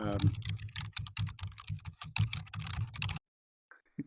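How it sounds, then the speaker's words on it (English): Rapid, loud clicking of keys on a computer keyboard, a quick burst of typing that stops abruptly, followed by a faint brief tap. "loud typing there."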